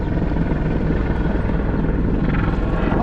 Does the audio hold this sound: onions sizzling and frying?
no